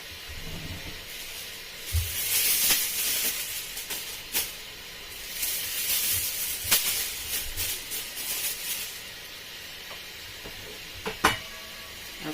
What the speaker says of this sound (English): I'm just going to use foil and cover it so that the steam will cook the rice